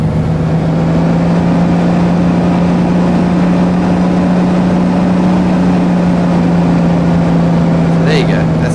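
The engine of a Carenado CT206H Stationair in the X-Plane 10 flight simulator runs at a steady, loud idle with an even droning hum throughout, and a faint brief chirp near the end.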